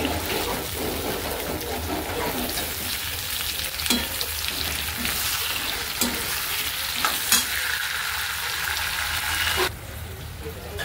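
Tomato goes into a pan of browned onion masala for chicken hariyali and is stirred, a loud continuous sizzle broken by spatula scrapes and knocks, with the hiss dropping sharply near the end.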